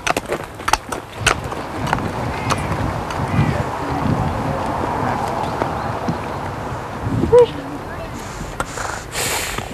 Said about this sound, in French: tu regardes le cheval